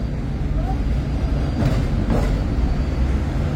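A Hong Kong tram passing along a street in Central, a steady low rumble with rail clatter and a brief rise as it goes by, loud and close.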